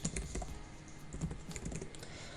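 Code typed on a computer keyboard, a steady run of close, crisp key clicks with slight irregular rhythm and no voices.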